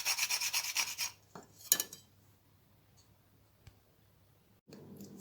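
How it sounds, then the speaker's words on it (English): Whole nutmeg is grated in a home kitchen, giving a bright rasping scrape of about a second, then a couple of short scraping strokes and small clicks before quiet, and a faint rub near the end. "So I'm going to grate my nutmeg"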